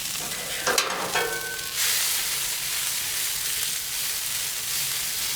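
Raw vegetables hitting a hot Blackstone griddle for yakisoba, a few clatters followed by a sudden loud, steady hiss of frying that continues to the end.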